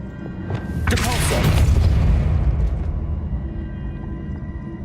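A Depulso force spell cast in the video game Hogwarts Legacy, a deep whooshing boom that swells and rolls off over a few seconds, with faint game ambience underneath.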